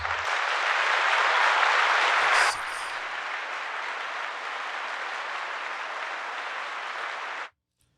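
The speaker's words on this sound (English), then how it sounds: "Round of applause." Dense, even applause that is loud at first, drops slightly in level partway through, then continues steadily before cutting off abruptly into silence.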